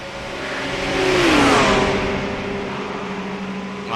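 An LMP2 prototype race car engine in a Le Mans endurance racing game swells as it passes close by, a high revving whine rising and falling in pitch over a steady engine drone.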